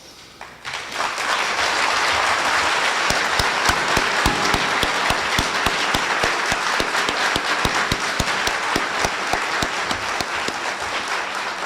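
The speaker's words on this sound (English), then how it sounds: "give you a round of applause for what you've done for us" Sustained applause from a large crowd at a 2009 induction ceremony, steady and loud, with dense clapping that carries on for several seconds.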